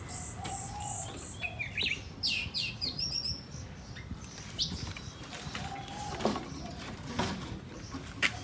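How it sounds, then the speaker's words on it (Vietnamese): A newly trapped oriental magpie-robin or shama songbird gives short, scattered chirps and whistled calls at close range. The calls are fairly quiet and come irregularly over low background noise. "Chim này là chim mới bẫy nha mọi người, chim chưa ăn cám đâu à"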